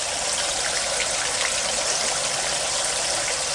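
Water spilling steadily out of an aquaponics system, a constant close hiss of flowing water with no pauses or voices.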